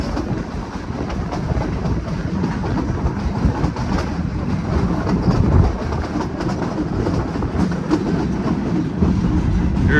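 Cumbres & Toltec narrow gauge scenic railroad train heard from an open platform while riding between Osier and Cumbres, Colorado: a continuous rumble of wheels and car noise with clickety-clack rail joints, steady and close.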